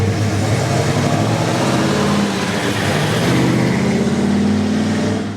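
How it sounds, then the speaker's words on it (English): A bright red 1964 Oldsmobile F-85 Cutlass 442 V8 muscle car rumbles deep and throaty nearby, a loud steady low-pitched burble that swells slightly as it revs, filling the whole stretch without voices. "It's bright red, has a throaty rumble,"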